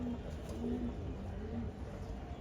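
A khoira-necked pigeon coos softly on a rooftop, a few low, drawn-out calls repeating faintly over a quiet hiss.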